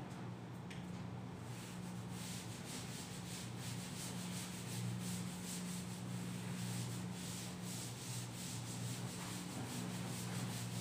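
Steady rubbing as writing is erased from a classroom board during a maths lesson, a continuous scratchy swishing held at an even level and quiet throughout.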